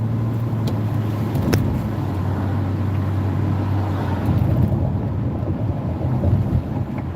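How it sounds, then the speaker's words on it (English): A car rolls along steadily with a loud, even road and engine rumble and wind noise throughout, with no talking. "But you can hear the car rides well, it drives smooth."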